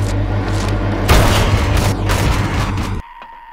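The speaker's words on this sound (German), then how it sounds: "Der Geschütz von der Decke." A ceiling-mounted turret in the game Empyrion fires a loud burst of rapid booming shots, a dense crackling barrage that cuts off abruptly after about three seconds.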